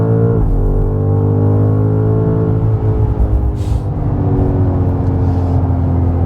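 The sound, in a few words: BMW M5 accelerating in Dynamic Plus mode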